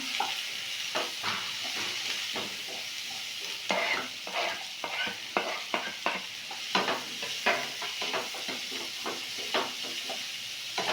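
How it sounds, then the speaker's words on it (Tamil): Onion, tomato, beans, carrot, coriander and mint being sautéed for vermicelli in a pan: a steady sizzle with repeated scraping and stirring strokes of a spoon against the pan, close and fairly quiet, with no talking. "தக்காளி, பீன்ஸு, கேரட்டு, மல்லித்தழை, புதினா எல்லாத்தையும் சேர்த்துக்குவோம். சேர்த்து வதக்கிடுவோம்."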